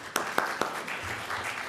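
Applause from an audience at a fair housing and lending seminar: a brief burst of clapping with a few sharp early claps that blends into a steady, moderately loud patter for under two seconds.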